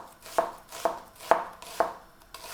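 A knife slices through an onion on a cutting board, making five crisp, evenly spaced cuts, each a sharp crunch followed by a light thud, close and alone.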